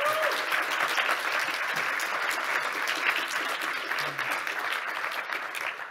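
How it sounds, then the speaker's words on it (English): An audience claps at the end of a conference talk on the Gateway API and service meshes, with steady, dense applause holding at a moderate level throughout. "You can clap if you want to."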